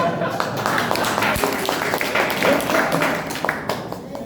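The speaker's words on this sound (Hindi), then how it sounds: "बजाइए ताली" An audience at a stage gathering in Triveniganj, Supaul claps in a steady, dense patter of overlapping hands, fairly close and sustained for several seconds, with voices talking over it.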